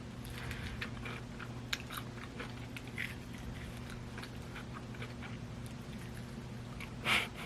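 Honey Combo fried chicken being bitten and chewed up close, with soft crunchy chews repeating in an uneven rhythm and one louder crackling bite near the end, over a low steady hum.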